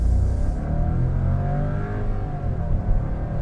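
Skoda Slavia 1.0 TSI automatic accelerating hard in sport mode, its engine note loud and close, droning and rising steadily through the gears without a break.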